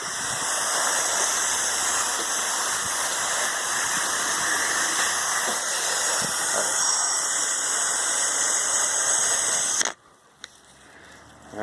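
Pressure washer spraying the gutters and siding of a house, a loud, steady hissing rush of water that runs for about ten seconds and then cuts off.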